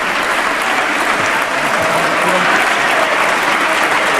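Sustained, dense applause fills a session of the Portuguese parliament, a loud even clatter of many hands clapping without pause.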